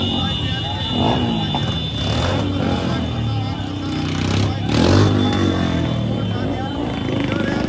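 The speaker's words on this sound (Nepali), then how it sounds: "यति ठुलो बाइक र्याली युरोपमा मैले पहिलोचोटि देखेँ" A large motorcycle rally passes along a road, with engines droning and revving one after another at close range. A person speaks over the traffic.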